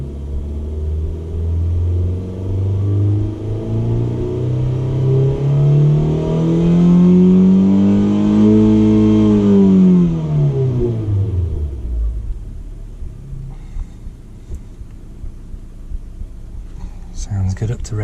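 Mazda 2 engine fitted with a Corksport short ram intake, revving smoothly from low rumble up to redline and back down in one long, loud sweep, then settling to idle with light clicks.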